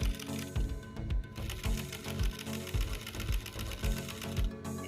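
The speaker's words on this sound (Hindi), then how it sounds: "बुकरम को हल्का दबाते हुए मैं सिलाई लगाऊंगी।" A sewing machine runs in steady bursts, stitching a kurta neck over buckram, its rhythmic mechanical chatter loud and close with brief pauses between runs.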